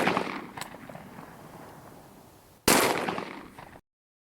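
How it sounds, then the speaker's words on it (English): A Taurus Judge revolver fires buckshot: a loud blast opens, decays over a couple of seconds, then a second sharp, loud shot rings out with a short reverberant tail before sudden silence. "I'm going to go ahead and try it with the buckshot now"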